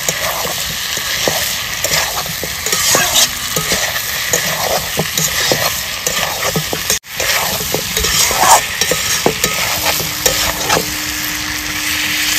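Pre-fried potato pieces go into a pan of frying mutton curry, with loud continuous sizzling and rapid scraping stirs of a ladle against the pot, one brief drop-out midway, and no talking.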